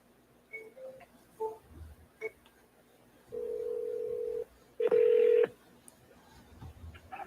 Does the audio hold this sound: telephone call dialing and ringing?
yes